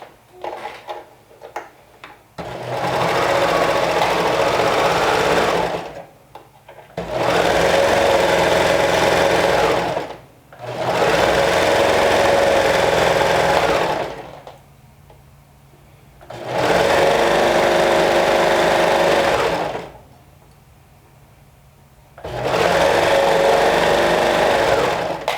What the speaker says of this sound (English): So let's go ahead and stitch that with 3/8 of an inch seam allowance.